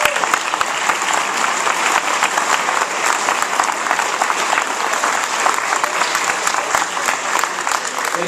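Steady, dense applause from an audience after a campus club debate, a continuous wash of many hands clapping at even loudness for the full stretch with no talk over it.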